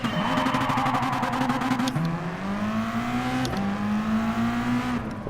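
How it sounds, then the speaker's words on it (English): Rallycross car in Gran Turismo Sport roaring at high revs, engine pitch climbing steadily through the gears with brief drops at shifts, loud and continuous throughout. "this car is like a rallycross car"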